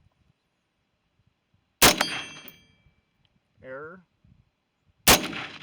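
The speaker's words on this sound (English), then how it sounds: "So we're going to go ahead and shoot our next load of H4895." Rifle firing XM193 clone loads with H4895 powder: two sharp, loud shots about three seconds apart, each with a ringing decay, and a brief electronic voice between them.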